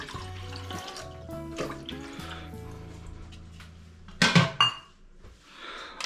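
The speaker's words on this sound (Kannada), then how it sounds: "ಮೊದಲನೇದಾಗಿ ಒಂದೆರಡು ಕಪ್ ನೀರು ಹಾಕೊಂಬಿಡೋಣ." Water pouring into a pot before noodles are cooked, a short splashing gush near the middle that breaks off and restarts, following a few tonal clinks and kitchen noises.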